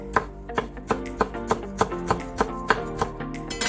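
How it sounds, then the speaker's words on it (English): A knife slices rolled kaffir lime leaves very thin on a cutting board, giving a steady run of crisp, evenly spaced chops, close and fairly quiet. "roll them together like this and just slice very thin"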